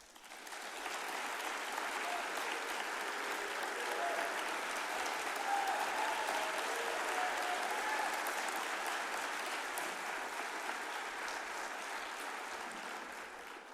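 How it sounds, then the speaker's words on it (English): A large audience applauds in a steady, sustained round of clapping that holds for several seconds before tapering slightly. "let's give all those change makers a round of applause"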